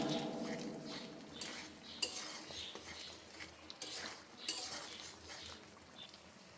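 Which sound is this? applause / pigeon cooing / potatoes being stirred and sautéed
potatoes being stirred and sautéed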